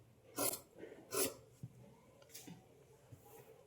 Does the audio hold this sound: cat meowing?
no